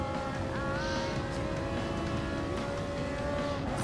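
A Mitsubishi Lancer race car in Gran Turismo Sport drones at a steady high engine pitch with slight shifts, the tone continuing unbroken beneath a constant rumbling bed of racing noise.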